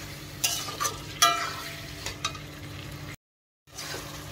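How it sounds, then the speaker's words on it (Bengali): Chicken sautéed in a pan sizzles up close while a utensil scrapes and clatters in several sharp stirring strokes, then a brief silence before the frying resumes. "কষিয়ে নেব চিকেনটা ভালো করে।"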